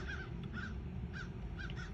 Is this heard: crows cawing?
yes